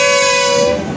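A dragon-themed kiddie train ride at a Dussehra fairground sounds a steady, loud horn-like toot through the whole second, over a dense background of mechanical and crowd noise.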